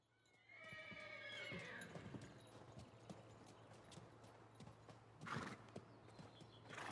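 A horse gives a long whinny near the start, then hooves clop and shuffle nearby, with a louder burst of movement later.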